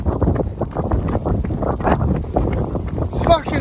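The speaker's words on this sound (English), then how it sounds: "It's fucking windy." Gusty wind buffets the microphone outdoors on a mountain trail, producing low rumbling bursts that rise and fall, with a voice speaking over part of it.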